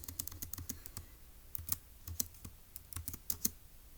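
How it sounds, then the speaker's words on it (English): Typing notes on a computer keyboard: quiet, close, irregular key clicks in short bursts, with a few louder taps, in an otherwise still room. "let's go ahead and type that up in our notes in section C."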